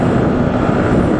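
Motorcycle on a highway, a loud, steady engine and road roar heard close up for just over a second, with no break in the noise.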